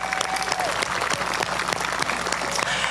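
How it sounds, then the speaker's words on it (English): Steady, dense round of applause from a crowd at an evening event honoring Margaret Campbell and the organizing group, continuous clapping at constant volume throughout with faint crowd murmur. "Let's give them a round of applause."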